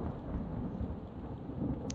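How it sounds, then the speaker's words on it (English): Steady video-game rain hisses with a low rumble of thunder beneath it, constant and fairly loud across the short stretch. "Oh, it's raining."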